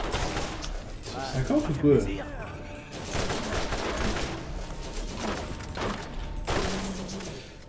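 Rapid repeated gunfire from a deployed turret in Borderlands, coming in several dense bursts of fusillade with short lulls between, mixed with game effects while someone talks over it.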